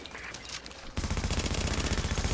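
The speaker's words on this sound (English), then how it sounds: "Alan, use the turret." Heavy turret machine gun fire in The Division video game breaks out after a brief quieter stretch, a loud, dense stream of rapid shots that continues steadily to the end.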